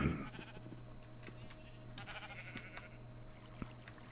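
Faint Minecraft sheep bleats come in short scattered calls over a low steady hum, a quiet farmyard ambience with no talking.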